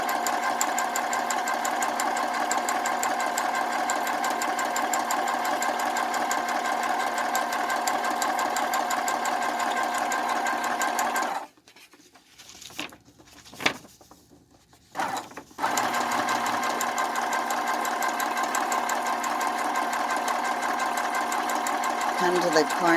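A sewing machine stitches a quilting project in a fast, steady whir nearby, pauses briefly for a few clicks and handling sounds while the fabric is turned at a corner, then resumes stitching, with a voice talking throughout.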